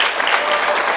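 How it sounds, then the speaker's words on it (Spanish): A church congregation claps together in steady, dense applause that stays loud and even throughout, with no voices standing out above it. "Dense todos ustedes que han venido hoy día un aplauso"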